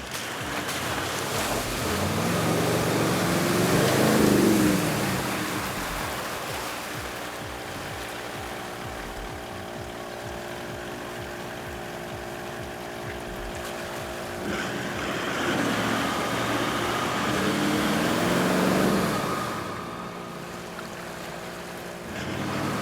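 A 4x4 on a budget off-road track ploughs through a muddy bog hole, its engine revving hard in two loud surges with splashing water, steady droning in between.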